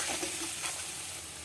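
Beetroot fries in a pan with a soft, steady sizzle at low volume, and light stirring is faintly audible.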